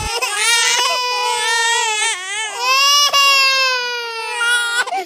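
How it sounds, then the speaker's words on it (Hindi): A baby cries loudly and continuously in a high, wailing tone, with brief catches of breath between sustained sobbing bursts and no other sound around it. "इससे ज्यादा एनोइंग होता है एक बच्चे के रोने की आवाज"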